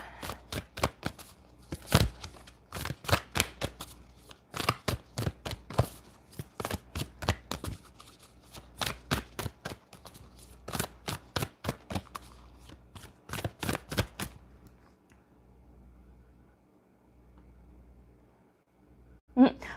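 Tarot cards being shuffled in a series of quick, crisp riffling bursts, each about a second long with short pauses between them, close up and clear, tapering to near silence at the end.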